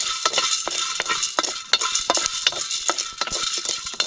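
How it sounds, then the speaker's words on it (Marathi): Nagkesar and tirphal spices dry-roasting in a pan for Solapuri masala, with a spoon scraping and stirring in quick, repeated strokes over a faint crackle, close and fairly loud throughout. "आता ही नागकेशर तिरफळा हे चांगलं भाजून घे"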